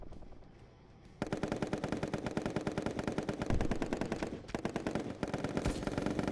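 Rapid automatic gunfire from a gun in the video game Pummel Party, a fast steady stream of loud, close shots that keeps going for several seconds after a short quiet start.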